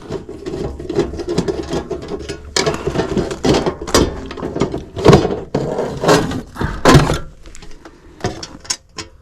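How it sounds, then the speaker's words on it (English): The dead front cover of a Tesla Gen 3 Wall Connector is worked off by hand, giving close, irregular plastic clicks, snaps and clatters with a few sharper knocks and no talking. "I'm going to take the dead front off."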